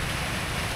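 Rain falls in a steady, soft hiss of many drops on surfaces, even and continuous throughout, with no voices.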